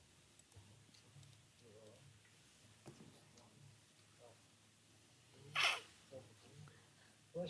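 A single sharp sneeze bursts out partway through, standing out above quiet talk in a room, with small clicks and taps scattered across the rest.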